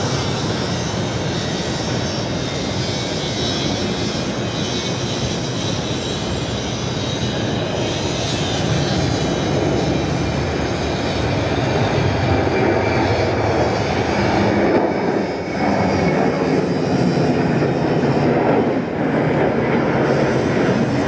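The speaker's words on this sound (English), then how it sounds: "Singapore bound Qantas 291 in the Finnair livery." A Qantas jet airliner in Finnair livery, flight 291 bound for Singapore, roars loudly through a morning departure at Sydney Airport, its engine rumble sustained and swelling over twenty seconds with no talk.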